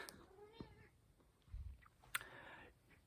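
A house cat lets out a short meow followed by a louder, sharper cry a moment later, faint and close, over soft room noise and a low thump.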